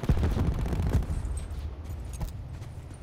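Bursts of rapid gunfire in Call of Duty: Black Ops 4 crackle loudly and close, dense at first and then thinning into scattered shots.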